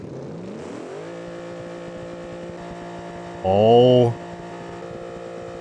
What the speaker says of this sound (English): the engine is still running, as you can obviously hear and see